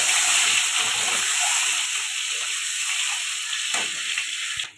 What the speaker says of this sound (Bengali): ডিমগুলো ভেজে নেব।